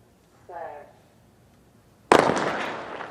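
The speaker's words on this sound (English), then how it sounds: "There's the gun, and Gay got away pretty well with Bromell there too, and Rogers as well." A starting gun fires a single sharp, loud crack to open a men's 100m race at a track meet, followed by a burst of crowd noise, with a brief voice just before.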